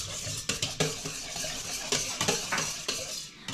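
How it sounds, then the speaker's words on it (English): Utensils stir and scrape ingredients in a pot, with repeated clinks and swishes at an uneven rhythm, close up and fairly loud, without talk. "Then we're going to mix that together"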